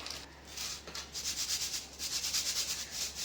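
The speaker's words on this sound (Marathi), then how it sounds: "हे पोहे आपण चाळून घेऊया" Flattened rice (poha) is shaken through a sieve, a soft rhythmic rustling swish repeating in quick pulses, close and without talk.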